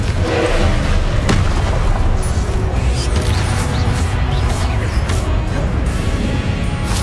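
Spell blasts from the Confringo fire spell in the Hogwarts Legacy video game, a dense run of loud booming explosions and thuds layered with continuous battle noise, close and sustained throughout.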